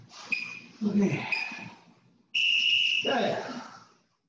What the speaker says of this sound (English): When you hear that whistle, we'll go to the swimmer.